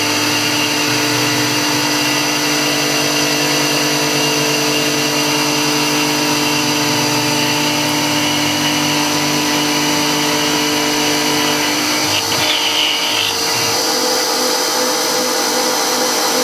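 A homemade milling machine takes a finish pass, its motor humming steadily with a dense, even whir of cutting throughout, close and loud, with a brief shift in tone near the end.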